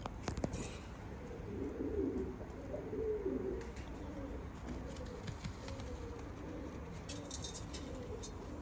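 Pigeons coo softly in repeated low, throaty phrases, steady and continuous against a quiet background with occasional faint clicks.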